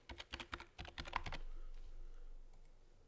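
Keys clatter in a quick, uneven burst on a computer keyboard as an article title is typed into a Joomla site, the close tapping stopping after about a second and a half and leaving a quiet room hum.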